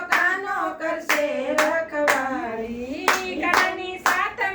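A group claps hands in a steady beat during a Radha Krishna bhajan, with sharp evenly spaced claps roughly once a second over loud singing voices.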